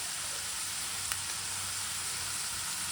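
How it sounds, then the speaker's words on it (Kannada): Chicken gravy with turmeric frying in a pan, a dense, even sizzle that holds loud and steady with no break and no talk. "ಈಗ ಇದನ್ನು ಫ್ರೈ ಮಾಡ್ಕೊಳ್ಳಿ. ಫ್ರೈ ಆಗಕ್ಕೆ ಬಿಡೋಣ."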